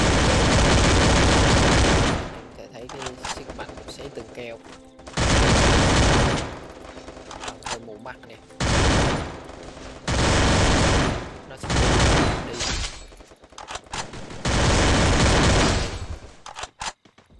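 Gunfire in the mobile battle royale game Free Fire: long, loud bursts of rapid automatic shooting lasting a second or two each, broken by short quieter gaps of clicks and movement, repeating through the whole stretch.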